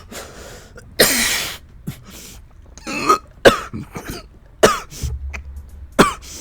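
Several rough coughs and throat clears from a man nursing a broken rib, close and loud, in irregular bursts separated by short pauses, no talk.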